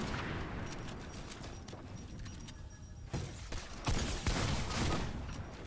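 Gunfire in a Fortnite match, a handful of sharp, loud bursts in the second half over a dense, noisy game mix.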